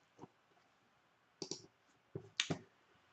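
A computer mouse clicks at a desk, one soft click followed by two sharp double clicks, close and clear against a quiet background with no talking.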